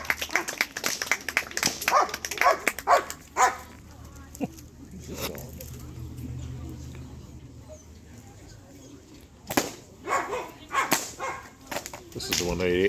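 German shepherd barking during a bark and hold protection demonstration, sharp barks in bursts mixed with people talking nearby.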